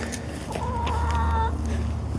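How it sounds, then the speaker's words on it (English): Backyard chickens at a rural home in Graham give a few close, clear clucks over a steady low background rumble, with no talking. "so it's one of the reasons why they have chickens"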